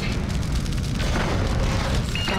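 Deep, rumbling explosion as a destroyed target in the BattleTech mech game blows apart, loud and sustained for a couple of seconds with crackling fire-like texture.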